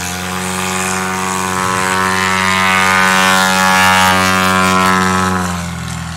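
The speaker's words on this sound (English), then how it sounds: "Let's listen to that nitrous oxide boost." A STOL aircraft on takeoff with nitrous oxide boost drones loudly with steady propeller harmonics, swelling in intensity and shifting slightly in pitch as it climbs away, close and continuous without talk.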